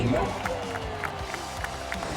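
A sold-out crowd packs a college football stadium, a dense wash of voices and yelling filling the space with scattered sharper shouts rising over the steady roar.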